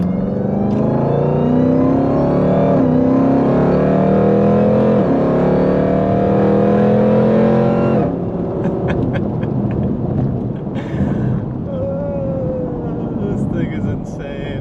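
A 1000hp Jeep Trackhawk accelerates hard. Its loud engine roar rises through a long pull for about eight seconds, then drops to a lower rumble as the vehicle settles, with a brief voice near the end.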